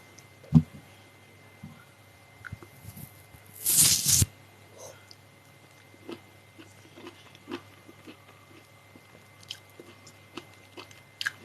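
Quiet, close eating sounds: a few soft bites and a brief burst of crunchy, juicy chewing, then scattered small mouth noises in a hushed room.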